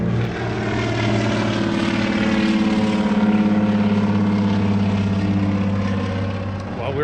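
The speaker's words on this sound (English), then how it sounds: "Oh, we got a seaplane. Check this out, guys." A propeller seaplane drones overhead above a river, its steady engine hum rising and then fading over several seconds, with a faint voice in the background.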